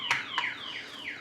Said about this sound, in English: That alarm is annoying.